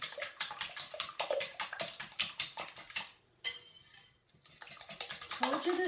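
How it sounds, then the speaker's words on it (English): Rapid clicking strokes of a whisk beating ingredients in a bowl for a tater tot bake with parsley and garlic, a quick close rhythm broken by a short pause and a clatter before resuming. "So now I'm going to whisk them."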